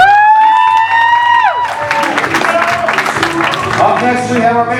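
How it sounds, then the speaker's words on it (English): Crowd cheering and clapping at a wedding for the maid of honor, a steady wash of applause with whoops; a sustained tonal note fades out in the first moments before the cheering takes over. "Can we have a round of applause, please?"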